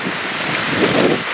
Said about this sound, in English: River.